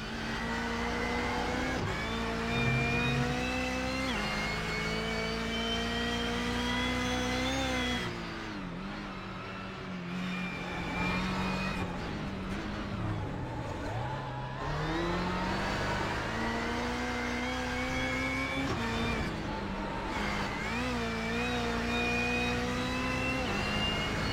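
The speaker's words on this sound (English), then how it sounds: "we will go on board with Mr. Harrod once again and join him for a lap and let the Subaru do the talking" A Subaru race car engine climbs and falls in pitch through the gears during an onboard lap, a loud, steady roar with sharp shift breaks around the middle and later revving back up, no voices.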